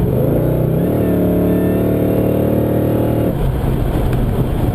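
Holden E3 Senator fitted with a 416 engine, making about 650 rwhp through an automatic, accelerating hard with a loud, steady engine roar that ends abruptly near the three-second mark.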